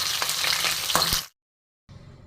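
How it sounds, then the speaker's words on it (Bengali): Tilapia fish pieces frying in oil over a medium flame, a dense, steady sizzle with a few sharper pops and crackles before cutting to silence, then a fainter sizzle resumes. "তো এক পিঠ আমার হয়ে যাক ভাজা, আমি আবার এক পিঠ উল্টে দেবো।"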